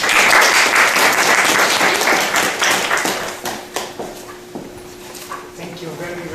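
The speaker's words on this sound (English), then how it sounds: "please welcome Max with a big round of applause" Audience applause welcoming a speaker at a talk, dense clapping loud at first and thinning out over several seconds, with a voice and a tonal hum emerging as it fades.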